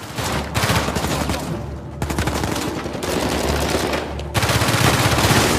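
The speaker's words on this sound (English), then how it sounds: "especially the way different guns sound in different environments" Rapid bursts of automatic gunfire rattle in long volleys, with brief pauses between, loud and close with a sharp synthetic edge.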